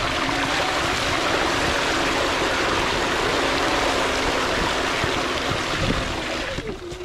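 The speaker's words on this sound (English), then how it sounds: "That's a lot of water." Deep stream of water rushing steadily and loudly throughout, a broad continuous flowing wash with a faint low hum underneath, easing slightly near the end.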